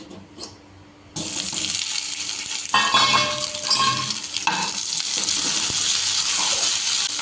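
Tomato pieces drop into a little hot oil and set off a loud, steady, close sizzle that carries on without a break after a quieter start, with occasional stirring scrapes and no voices.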